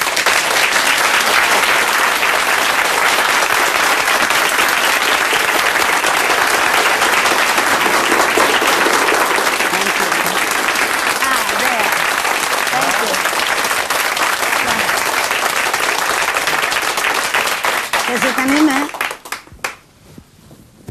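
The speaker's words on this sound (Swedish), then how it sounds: "Underbar applåd." A Swedish television studio audience in 1982 applauds a welcomed guest with sustained, dense clapping that holds steady for about eighteen seconds before tapering off, with some voices mixed in.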